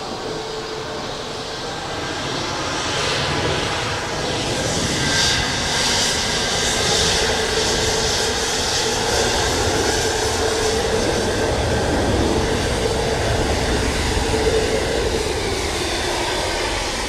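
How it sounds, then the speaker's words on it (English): A Turkish Airlines Airbus A321 arrives from Istanbul at Dublin Airport. Its loud jet engine roar builds over the first few seconds, then holds as a close, powerful rush with a hissing high-end whine. "So next up are Turkish Airlines in from Istanbul."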